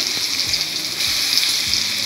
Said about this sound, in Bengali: রসুনটা তেলের মধ্যে কষিয়ে দিলাম